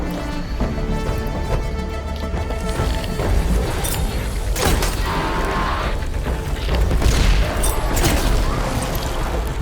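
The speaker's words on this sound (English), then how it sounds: "the sack webbing explodes there" Sack webbing explodes on an Apex Fireclaw in Horizon Forbidden West on very hard difficulty: heavy booms and crashing impacts burst out amid dense, loud, continuous game sound and music.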